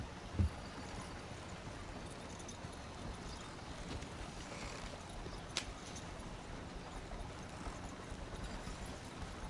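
Horse hooves clip-clopping steadily at a quickened pace in the Red Dead Redemption 2 video game, a continuous rhythmic patter under a soft wind-like background, with one brief thump near the start.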